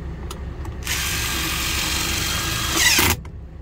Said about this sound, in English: This one even more so, because it's the little impact driver